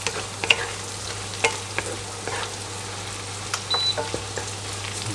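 Pork belly stir-fried with garlic in a pan for a Thai basil dish: a steady sizzle beneath a low hum, with scattered light scrapes and taps of a spatula; no talking.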